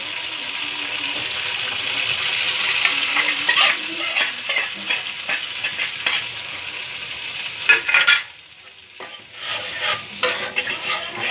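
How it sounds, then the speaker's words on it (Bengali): Ground spice paste with crushed tomatoes frying in a pan for a vegetarian dish, a steady sizzle with stirring scrapes, briefly dropping quieter near the end before resuming. "মশলাটা ভালো করে কষিয়ে নেব।"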